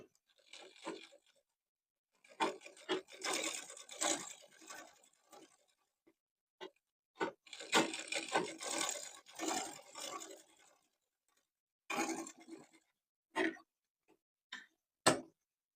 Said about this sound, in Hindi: अब हम इन लाइनों पर सिलाई लगाएँगे।